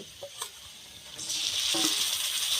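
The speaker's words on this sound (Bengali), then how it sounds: "এইভাবে নেড়ে চেড়ে ভেজে নেব" Pointed gourd paste with turmeric and chilli powder frying in a pan, a soft sizzle that swells into a steady hiss partway through, with faint scraping taps of stirring near the start.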